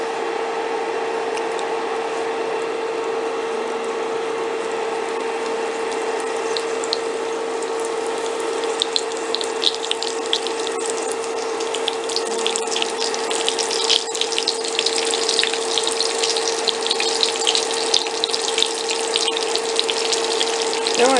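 Medieval pork pockets fry in hot oil with a steady, close crackle that grows busier and denser partway through, alone without talk over a constant low hum.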